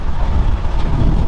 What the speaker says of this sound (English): It's the air conditioning that's making all that wind.